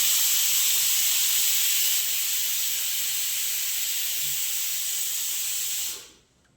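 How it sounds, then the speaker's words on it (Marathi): A pressure cooker of dal and rice or boiling potatoes on a home kitchen stove vents a loud, steady hiss of steam that holds for about six seconds and then cuts off sharply into near silence. "तेव्हा मला कळतच नाही कोणत्या कुकरच्या किती शिट्ट्या झाल्या"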